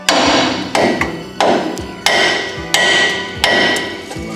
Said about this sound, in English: I'll just try to hammer.